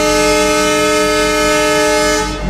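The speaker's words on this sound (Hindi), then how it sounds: "ये मंगलुरु एक्सप्रेस यहाँ पर आ चुकी है" The Mangaluru Express sounds a long, loud, steady horn as it arrives at a station on the non-electrified Konkan Railway line in India. The blast is close and continuous and fades slightly at the very end.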